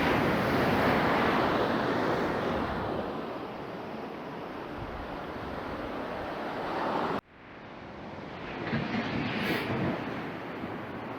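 Surf rolls in at Saud beach in the Philippines in the rain, a dense continuous roar of waves and rain with some wind, cut briefly near the end before resuming.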